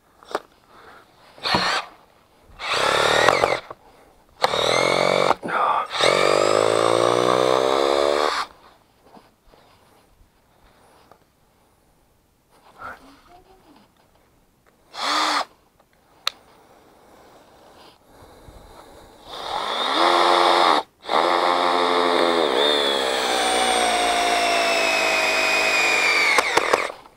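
A Hitachi DV18DCL2 cordless driver drill bores into a hardwood block, whining and grinding in several loud bursts as something inside the gearbox or clutch slips, with quiet gaps between runs.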